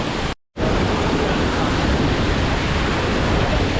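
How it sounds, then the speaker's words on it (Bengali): A waterfall at Cherrapunji in Meghalaya roars as a loud, steady rush of water after a brief dropout near the start, with no talking. "তো ওয়াটারফলটা কি সুন্দর লাগছে দেখো,"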